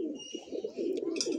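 A close, loud chorus of many paired pigeons kept in a home loft coos continuously in overlapping throaty phrases, with a few faint higher chirps near the end.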